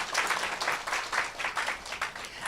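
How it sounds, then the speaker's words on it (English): Audience at a business success seminar clapping for leaders, an even, rhythmic patter with a slight pulse, moderately loud and sustained throughout the short stretch without talk. "Can we get a round of applause for our leaders?"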